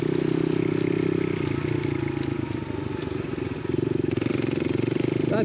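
A Yamaha TTR125 dirt bike idling and running steadily as a learner rider works the clutch and clicks up through gears, a continuous buzzing engine drone close by with a brief dip and surge in loudness.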